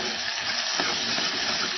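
Onions sautéing in oil toward dark brown for a misal gravy give a steady, close sizzle and crackle that holds evenly throughout, with no speech.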